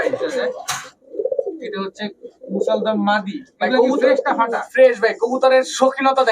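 Low cooing rises from healthy, strong pigeons of Indian and Pakistani high-flyer giribaz breeds kept as pairs. It is nearly buried under someone talking close by, with brief pauses between his phrases.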